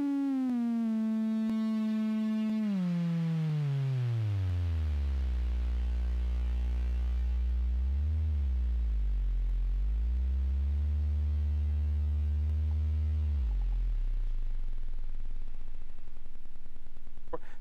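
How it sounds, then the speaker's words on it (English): A sustained synthesized tone glides downward in pitch, wobbles, then fades into a long reverberant tail, with nobody speaking. "you can't go wrong making sure that you've got some really cool reverb happening"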